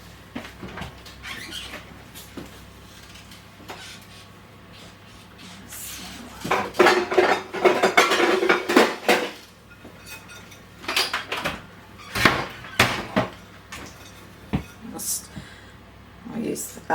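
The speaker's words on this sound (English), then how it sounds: "So I'll just organise a casserole dish." A casserole dish is fetched from a cupboard and set down, with scattered clinks, knocks and scraping of dishes, a busier flurry of handling in the middle, and a person talking over parts of it.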